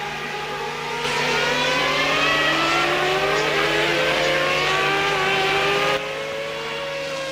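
A Formula 1 car at the 1992 French Grand Prix screams past, its engine note rising loud and close and then sweeping down in pitch as it moves away, with other racing engines droning faintly behind.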